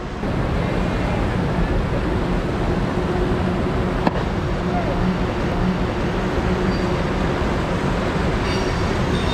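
A train rumbles steadily past at close range beside the Nolichucky River, a continuous broad roar with a faint metallic whine, lasting throughout.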